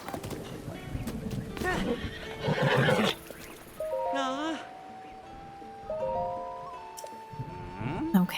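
Horses in the video game Zelda: Breath of the Wild whinny and neigh at a stable, several clear calls spread across the stretch with hoof clip-clops and game ambience, close and moderately loud.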